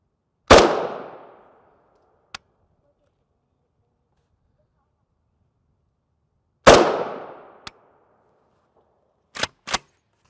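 Rifle shots fired at UHMWPE level III armor plates outdoors: two loud sharp reports several seconds apart, each with a fading echo tail, followed by a few brief distant metallic clicks and knocks.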